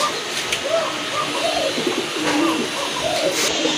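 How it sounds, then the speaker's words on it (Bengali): Large Gopalganj pigeons coo in a steady series of soft, rolling calls, fairly close, over a continuous background hiss with faint murmuring. "মাশাআল্লাহ এখানে দেখতে পাচ্ছেন আরেক জোড়া কবুতর, এটা হচ্ছে আপনার গোপালগঞ্জের বড় পায়রা কবুতর"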